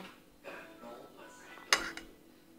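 A spoon scooping and clinking against a lid while making a corn-and-milk hamster snack, one sharp close metallic clink standing out among soft handling noises.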